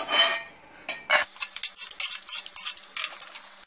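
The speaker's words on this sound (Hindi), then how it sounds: "अब इसको एक प्लेट में निकाल लेंगे।" Roasted peanuts are scraped and tipped from a pan onto a plate, giving a quick run of dry rattling clatter, close and fairly loud, with no voices.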